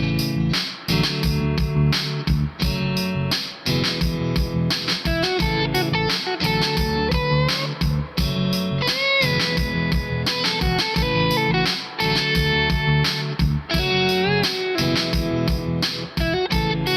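Electric guitar played through the green side of a Protein overdrive pedal over a backing track, a dense, distorted rhythm part with steady chords and drums running continuously and loud, with no talking.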